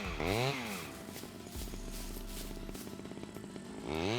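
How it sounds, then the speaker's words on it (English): A chainsaw in the SCUM survival video game revs up with rising and falling whines, settles into a steady buzzing idle, then revs again near the end, close and prominent with no voices. "This chainsaw's getting a little bit, temperamental."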